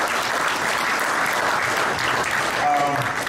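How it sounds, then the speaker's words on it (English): A crowd applauds steadily, loud and close, with a voice briefly audible near the end. "round of applause. Thank you very much."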